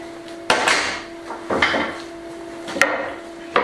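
Clamps are loosened and pulled off a glued wooden piece during a finca renovation, giving sharp woody clacks and scraping knocks at roughly one-second intervals, close up, with a faint steady hum underneath.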